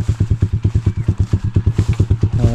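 An old motorcycle engine runs close and loud, thumping out a fast, even pulse of firing beats with a low mechanical drone.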